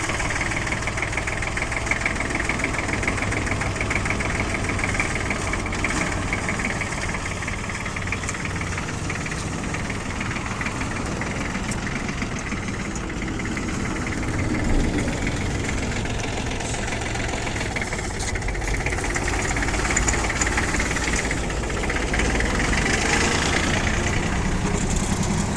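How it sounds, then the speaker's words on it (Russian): A Kubota GL33 tractor with cab runs steadily while turning, its mid-pitched engine chugging with a knocking, vibrating idle throughout, close and continuous with no talk. "Сейчас как раз посмотрим, как на ходу она себя ведет. Пока трактор развернется."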